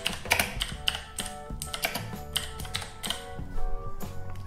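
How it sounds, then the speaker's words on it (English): Fingers type on a computer keyboard entering slide text for a Polycomp Graphic Commander display, a rapid uneven run of close, crisp key clicks with no talking. "start typing my slide text"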